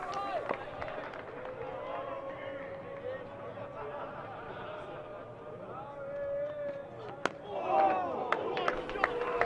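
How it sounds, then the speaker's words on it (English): Lancashire crowd at a Lancashire v Yorkshire cricket match, a broad murmur of chatter and cheering that swells near the end, with scattered claps and shouts under steady talk. "Listen to the crowd."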